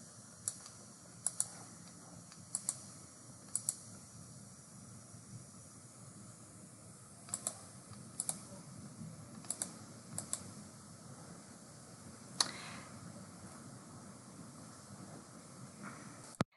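Fingers type on a computer keyboard in steady bursts of crisp key clicks with brief pauses, heard close and clear over a faint background hum.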